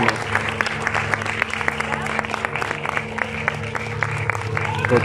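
A crowd at a red-carpet movie premiere in Plaza Carso, Polanco, claps in quick rhythmic bursts over steady background music, with faint voices mixed in.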